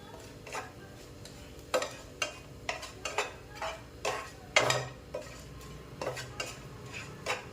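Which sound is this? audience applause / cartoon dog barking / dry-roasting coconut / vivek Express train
dry-roasting coconut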